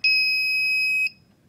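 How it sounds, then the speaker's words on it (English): A single steady electronic beep, a high pure tone held for about a second and then cut off, loud and close against a quiet background. "Oh, it goes beep. Goes beep and it has a light."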